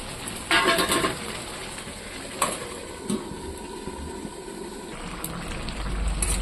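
Bottle gourd frying with meat in a pan, a steady wet sizzle and bubbling with a few louder pops and crackles close by, running throughout without speech.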